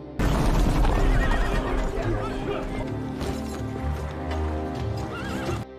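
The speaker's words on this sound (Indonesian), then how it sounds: "Tak lama, datanglah pasukan berkuda." A troop of mounted cavalry arrives with horses whinnying and neighing loudly over a dense, continuous clatter of hooves, close and busy throughout.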